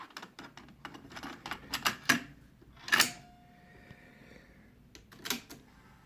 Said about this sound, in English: I recorded on both sides of this tape, so I'm just going to flip it around.